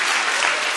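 Dense, loud clapping from a seated audience after a performance, a continuous wall of applause with no voices over it.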